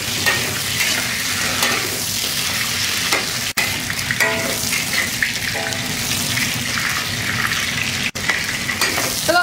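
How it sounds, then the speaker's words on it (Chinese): Pork ribs sear in a hot pan on the stove, a loud continuous sizzle and crackle with occasional scraping as the pieces are turned, no voices. "这样子把排骨煎一下，"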